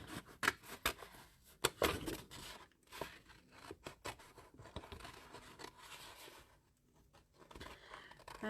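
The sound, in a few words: scissors cutting out paper pieces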